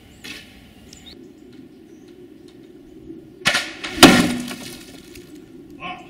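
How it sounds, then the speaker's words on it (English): Slingshot shot crashing through a steel plate and wooden beams, landing as a sharp impact and then a louder splintering crash with a short ringing tail, after a quiet, faintly noisy stretch. "it crashed through the steel and through the wood and got stuck in the second wooden beam"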